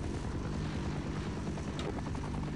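Tiltrotor Osprey aircraft in the video game Half-Life, a steady droning rotor and engine roar that holds at an even level throughout, with no talk over it.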